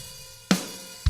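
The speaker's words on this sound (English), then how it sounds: "or if I set them all the way open." A single fully open hi-hat from a Logic Drummer virtual kit rings out with a bright, splashy wash, followed by a low drum thump, brief and close with no speech.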